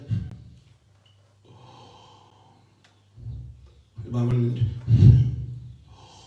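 Yogic in-breath paired with an inwardly recited Om mantra: audible breathing, snort-like nasal inhales and gasps come in uneven bursts, close and fairly loud, separated by quiet gaps with a low steady hum.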